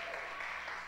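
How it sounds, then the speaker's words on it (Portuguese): A church congregation applauds in a continuous wash of clapping, moderately quiet, with a voice mixed in faintly underneath. "Vamos aplaudir esta palavra"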